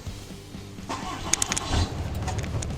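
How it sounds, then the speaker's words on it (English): A pickup truck idles and shifts as it backs up toward a gooseneck hitch, a low rumbling engine with a brief rise in the middle, fairly close, with faint clinks over it. "I'm gonna back my truck up."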